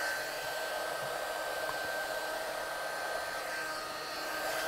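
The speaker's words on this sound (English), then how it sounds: "So I'm just going to heat set this one with my gun." A heat gun blowing hot air onto a watercolour-painted card to heat-set it, a steady, even whooshing hum that runs unbroken and fairly faint, with no talking.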